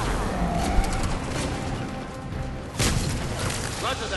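Grenade blast in Mass Effect 3 amid loud combat noise, a sharp boom rising out of ongoing crashes and gunfire near the end.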